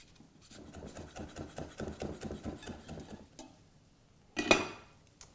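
A knife cuts a chili into long strips on a cutting board, giving a run of about a dozen quick, even taps and rubs, then a sharper knock near the end.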